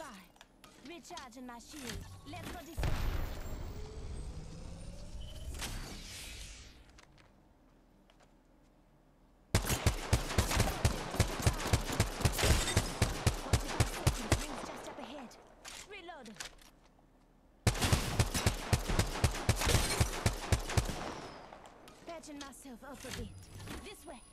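Bursts of rapid automatic gunfire in an Apex Legends match, two long volleys of fast, sharp shots with quieter stretches between and earlier scattered shots, a player's voice speaking at times.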